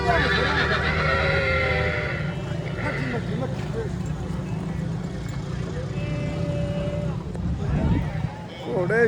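A mare at a horse market in Aminpur neighs loudly several times as she approaches, with hoof clip-clop, a vehicle engine and people talking in the background.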